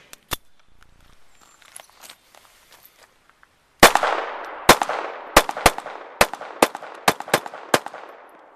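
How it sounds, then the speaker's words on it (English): Beretta 71 pistol shot repeatedly on a shooting range: a few faint handling clicks, then about ten sharp, loud reports in a quick uneven string, each with a short ringing decay. "Let's shoot this."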